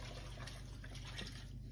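Water poured steadily into a 72-ounce Ninja power blender jar holding cassava, a continuous soft splashing flow at low volume.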